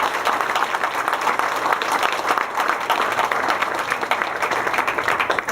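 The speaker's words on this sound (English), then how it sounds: "So please applaud them." Steady, dense applause from a banquet audience at a chamber of commerce dinner, clapping sustained evenly throughout at moderate loudness.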